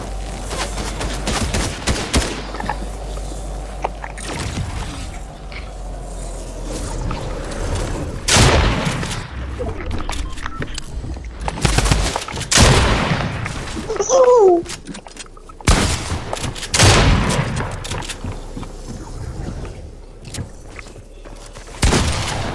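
Golden shotgun blasts in Fortnite ring out as several loud, sharp booms spaced irregularly, mixed with other gunfire and game effects, with a voice speaking in places.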